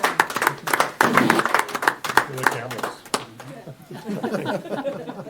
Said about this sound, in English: come on up for a big round of applause